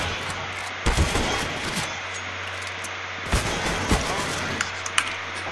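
Counter-Strike: Global Offensive gunfire crackles through a steady low game hum, with a couple of sharp shot bursts and several lighter pops spread across the stretch, and no talking.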